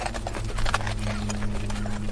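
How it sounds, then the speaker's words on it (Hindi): A shod horse walks through water in a sound effect: steady, close clip-clop hoofbeats over a constant dense wash of background noise. "घोड़े के पैरों में नाल ठुकी हो और वो पानी के ऊपर चल रहा हो, ऐसी आवाज़ मेरे कानों में पड़ी"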